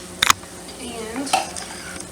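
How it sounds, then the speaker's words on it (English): A couple of quick scraping clinks of a spoon against a pot of boiling parboiled rice, followed by a soft swishing stir over a gentle bubbling hiss. "we'll just stir that a little bit."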